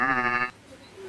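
A voice imitates a goat bleating with a single nasal, wavering "baa" that stops abruptly, followed by quiet background.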